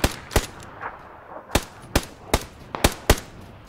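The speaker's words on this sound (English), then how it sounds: "other people shooting me" Gunfire in the video game PUBG: a series of sharp, evenly spaced single shots rings out clearly in a steady rhythm, with no talking.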